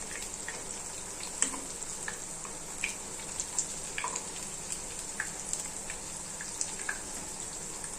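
Oil sizzles steadily as food shallow-fries in a pan over medium heat, with a constant hiss and scattered small pops and crackles, close and fairly quiet.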